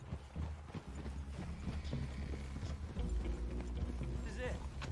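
Horse hooves clip-clop on the ground in the video game Red Dead Redemption 2, a steady rhythm of hoofbeats under a low rumbling background with faint mechanical rattles.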